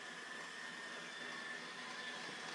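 A mixer runs steadily at a constant high whine as it whips homemade divinity candy, a faint, even motor hum with a thin tonal edge and no voices over it.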